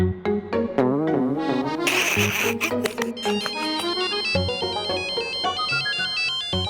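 A loud melodic phone ringtone plays alone, a bright repeating electronic tune with bursts of chiming notes.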